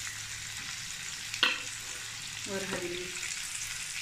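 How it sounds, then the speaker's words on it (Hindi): Chopped onion and ginger fry in a pan with a steady, bright sizzle throughout, broken by a sharp clink of a utensil and a brief stir, while someone speaks briefly. "प्याज को लाइट ब्राउन होने तक हम फ्राई कर देंगे"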